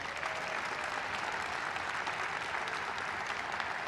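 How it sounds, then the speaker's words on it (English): Applause from the audience at a city's state of the city address rolls on evenly, a thick, continuous clapping heard from within the hall at moderate level with no talk over it. "Let's give him a round of applause."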